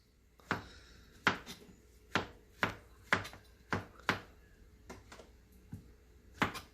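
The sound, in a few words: chopping mushrooms with a knife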